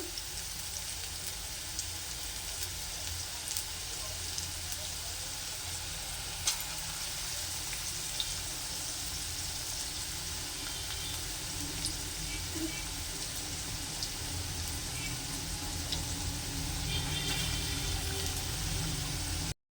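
Continuous bubbling sizzle of potato pakoras deep frying in oil, close and steady, with faint occasional clicks and no one speaking.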